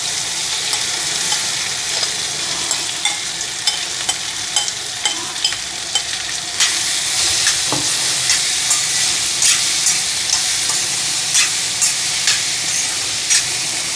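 Capsicum and onion mixture hitting hot oil with cumin and garlic, a bright continuous sizzle that swells louder partway through, punctuated by repeated scraping and stirring clicks of a utensil, no talking.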